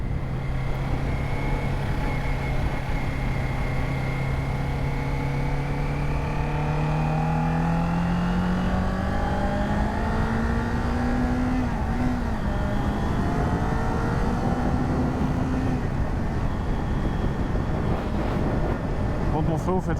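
A Kawasaki Ninja 400 sport motorcycle with stock exhaust accelerates steadily for a long stretch, its pitch rising through the gears, heard from on board with constant road and wind roar.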